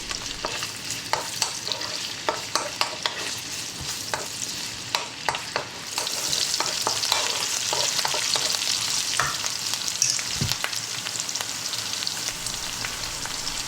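Ginger, garlic and onion stir-frying in hot oil in a wok, with a steady close sizzle broken by repeated sharp scrapes and clatters of tossing, the frying growing louder and denser halfway through; no voices.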